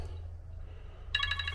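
A mobile phone rings inside an RV, a bright electronic ringtone beginning partway through and repeating over a low steady hum, with no talking.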